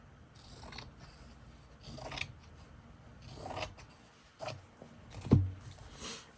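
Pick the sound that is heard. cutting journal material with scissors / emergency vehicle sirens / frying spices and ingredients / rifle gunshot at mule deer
cutting journal material with scissors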